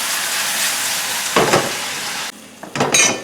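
Meat sizzles loudly in a hot pan with soy sauce, giving a steady fry hiss that swells in bursts as the pieces are stirred and tossed.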